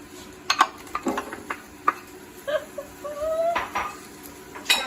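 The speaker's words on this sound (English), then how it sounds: "And I'm stirring, and while I'm stirring it, I'm going to start putting the vegetables" A spoon scrapes and clinks inside a pot of chicken soup as vegetables are stirred in, with irregular metallic taps and knocks close by, a faint squeak midway, and no speech.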